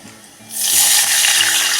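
Water poured into chilies and crushed cloves frying in hot oil for a barnyard millet upma erupts after half a second into a loud, steady hiss and sizzle that fills the rest of the clip, with no talking.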